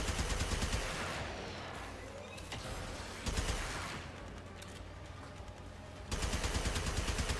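Continuous automatic weapon fire from the Fulmin, a rechargeable unlimited-ammo gun in the video game Warframe, rattling loudly in sustained bursts with brief drops in intensity, with no talk over it.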